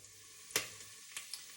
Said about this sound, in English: we can fry the onion off for a few minutes until it starts to go translucent